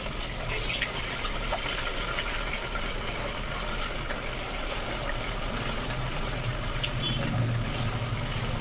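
Semolina medu vadas fry in hot oil, giving a steady faint bubbling sizzle throughout with soft crackles, fairly quiet and without talk.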